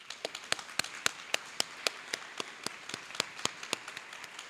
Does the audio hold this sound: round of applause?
yes